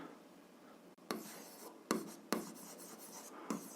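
A pen scratches across paper while solving a seventh-grade algebra exercise, a quiet close rustle broken by several sharper strokes and taps.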